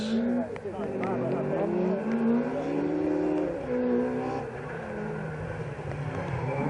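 Engine of a small Peugeot rally car revving hard on a slippery Welsh stage in a Peugeot-versus-Citroën battle, loud and sustained with rising and falling pitch as it accelerates, under a commentator's talk.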